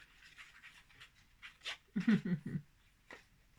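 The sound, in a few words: small dog panting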